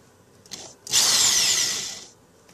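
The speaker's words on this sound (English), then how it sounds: "Plug her up. That's why I drilled the pilot holes" A power drill runs in pilot holes while building a DIY soldering helping-hands stand, with one short whir of about a second, sharp and near, after a faint brief start, alone without talk.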